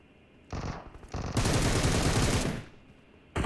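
Automatic gunfire in the mobile battle royale game PUBG Mobile, with two short bursts followed by a sustained loud burst of rapid shots lasting about a second, then quieter game ambience.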